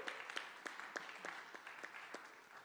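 Applause for a pianist at a graduation performance recital, a faint, steady wash of many hands clapping from an audience, with a few sharper individual claps standing out at a distance.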